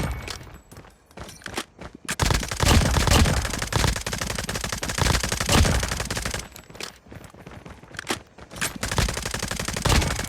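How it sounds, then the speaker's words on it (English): Rapid automatic SMG fire from Call of Duty Mobile, sustained loud bursts with brief pauses, a 50-round weapon rattling off close and dense through most of the stretch. "I think I'm having way too much fun with this SMG"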